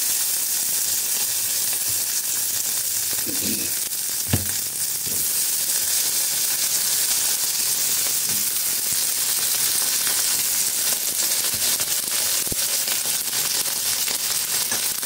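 Eggplant pieces frying in a pan for a Madurai Meenakshi temple style brinjal and field bean offering, giving a steady close hiss and sizzle throughout with a few faint clinks and stirring sounds.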